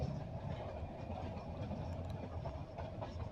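Meter gauge train rolling slowly into Visavadar junction, a faint, low steady rumble with light wheel clatter and no voices.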